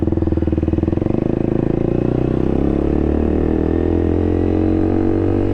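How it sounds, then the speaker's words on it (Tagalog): A KTM RC200 motorcycle fitted with an SC Project exhaust runs close and very loud. A deep, rapid, throbbing engine note settles from a brief rev into a steady rumble. "kung masyado akong pag di ko na masyado trip yung ganito kalakas na exhaust"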